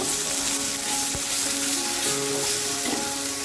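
Ginger, garlic, cumin-coriander paste, dried chilli, turmeric and sugar fry in oil and are mixed for a potol dolma, a loud continuous sizzle with soft stirring scrapes, close and without voices.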